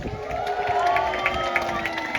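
A crowd of spectators, children among them, cheers and shouts for the vultures at an outdoor bird show at African Lion Safari, a sustained, lively mix of many raised voices.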